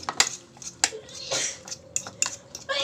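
Eggs being scrambled for a Filipino torta in a frying pan, with sharp clinks and scrapes of a utensil against the pan coming in irregular bursts, close and fairly loud.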